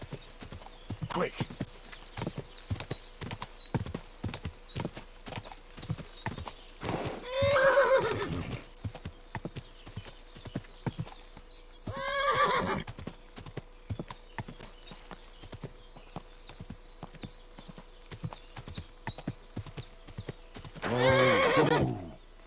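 A horse clip-clops along at a steady pace in Kingdom Come: Deliverance II, its hooves close and continuous, with three loud whinnies breaking through at intervals and a voice briefly heard over the ride.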